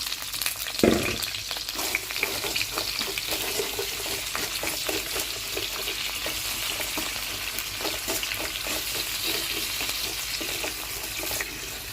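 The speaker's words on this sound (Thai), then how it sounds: "เดี๋ยวแม่ก็จะเอา ปูลงไปผัดให้สุกก่อนนะคะ" Crab stir-frying in garlic oil with chili for a curry-powder crab dish gives a steady, close sizzle that runs unbroken for the whole stretch, with small scraping stirs and one sharper knock near the start.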